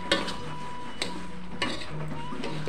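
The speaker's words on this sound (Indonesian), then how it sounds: "Ini kita aduk-aduk sampai tercampur rata, tercampur baur ya untuk si daging, bumbu, dan si serundeng kelapanya." Gepuk beef, spices and coconut serundeng are stirred in a pan with a soft, steady scraping sizzle. A few light clinks of the utensil strike the metal at intervals, close up and with nobody talking.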